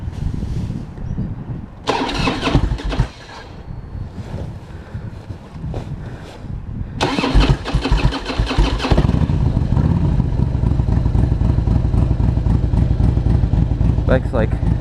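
A motorcycle engine fires up and settles into a steady idle as it warms up on a cold morning, with wind buffeting and handling noise earlier, the engine close and continuous for the last several seconds.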